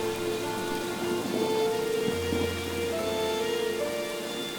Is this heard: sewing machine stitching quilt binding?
no